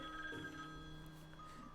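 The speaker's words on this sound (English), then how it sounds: "Oh, that's the phone." A telephone ringing in the Layton's Mystery Journey video game, a faint electronic ring with sustained chiming tones over quiet background music.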